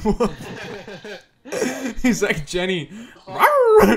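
A dog barks and yips in the video game Chibi-Robo, with short bursts mixed in among people talking and laughing over the game.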